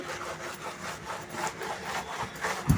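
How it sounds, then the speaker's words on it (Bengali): A wet cloth wipes and scrubs kitchen surfaces in repeated rhythmic rubbing strokes at close range, fairly soft and steady, with a small knock near the end. "এমনি জল কাপড় দিয়ে মুছি আর মাঝে মাঝে সাবান দিয়ে ঘষে দিই"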